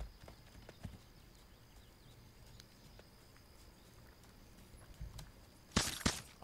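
A horse's hooves clip-clop in the video game This Land Is My Land, faint and distant at first, then a brief louder burst of hoof strikes near the end.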